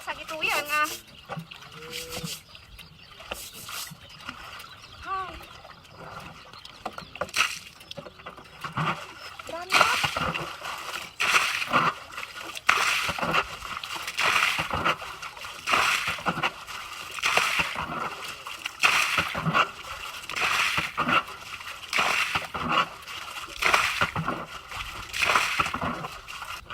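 Water splashing repeatedly as someone swims, with bursts of splatter and sloshing growing busier and louder in the second half, while people talk over it.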